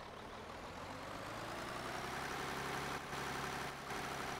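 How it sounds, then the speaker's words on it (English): Steady low engine drone of a Deutz D80 tractor pulling a trailer in Farming Simulator 2013, an even idling-to-working rumble that holds constant and fairly loud with no talk. "Really like this tractor. It's a Deutz D80."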